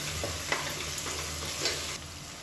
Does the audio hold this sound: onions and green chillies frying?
yes